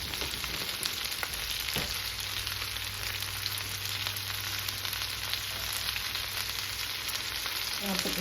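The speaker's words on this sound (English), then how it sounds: "My cabbage is frying over there" Cabbage fries in hot grease in a pan with a continuous, even sizzle and crackle. A low hum runs underneath, with no voices.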